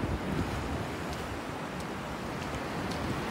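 Sea waves wash steadily onto a sandy shore at Playa Smyrna, a broad, constant surf roar mixed with wind buffeting the microphone, with no talk.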